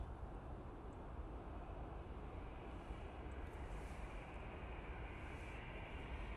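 An easyJet Airbus A320ceo passes over Manchester Airport, giving a steady, broad jet roar that holds at a fairly even, moderate level throughout, with no voices.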